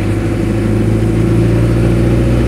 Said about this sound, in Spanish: escucha lindo el motor